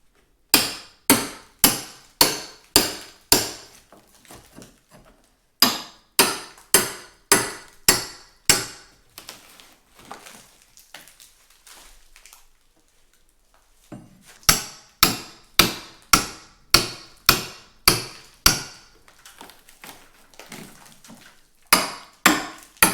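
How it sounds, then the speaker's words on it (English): A hammer strikes a wedge driven behind paper during demolition, sharp loud blows in fast rhythmic bursts of about five to eight hits, separated by brief pauses with faint scraping. "I'm just wedging it behind the paper and then hitting it with the hammer"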